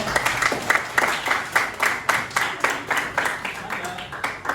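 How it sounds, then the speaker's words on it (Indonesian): Students in a school informatics class clap together in uneven, rhythmic bursts, with a voice talking briefly at points. "Ini tepuk tangan buat kita semua"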